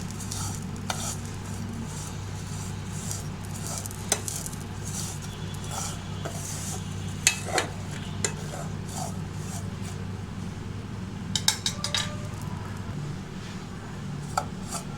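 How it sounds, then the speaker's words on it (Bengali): Vermicelli fries with nuts in a pan, giving a low steady sizzle under scattered stirring scrapes and utensil clicks, with sharper clatters now and then. "এখন সেমাইটাকে আমি বাদামের সাথে ভালোভাবে ভেজে নেব।"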